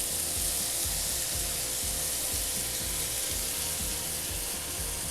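Fish broth being poured into a hot pan while cooking tilapia, a steady loud sizzle and bubbling frying sound throughout, with rhythmic low stirring or bubbling pulses underneath and no voices.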